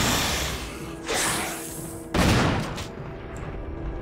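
Gunshots fired at a monster in the Resident Evil Remake, a few loud separate blasts spaced about a second apart, each with a short decaying tail.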